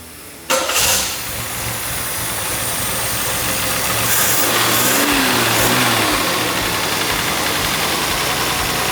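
A six-cylinder engine with breaker points, a condenser and two ignition coils, one per cylinder bank, fires up loudly after a short crank and settles into a steady idle, the revs swelling briefly midway, with no talking.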